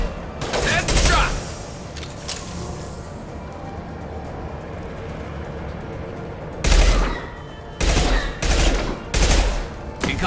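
Gunfire in the video game Mass Effect 2 comes in loud, close bursts of rapid shots, one early volley and then a cluster of sharp bursts near the end, with a quieter rumbling stretch of game noise between them.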